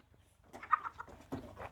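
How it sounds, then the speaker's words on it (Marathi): Village chickens in a rural yard make a few short clucks and murmurs, close by and fairly quiet, with a couple of louder bursts near the end. "इकडे कोंबड्या आहेत, भरपूर कोंबड्या आहेत, भरपूर."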